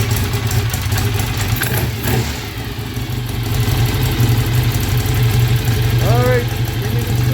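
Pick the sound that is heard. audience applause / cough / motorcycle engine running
motorcycle engine running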